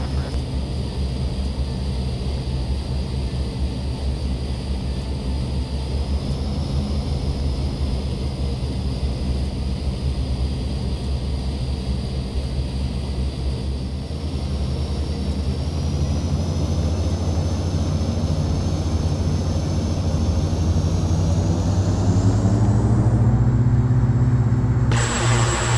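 A Saab 2000 turboprop in the P3D flight simulator rolls for takeoff, its engine drone steady and loud, then building in power and pitch toward the end, with no talking.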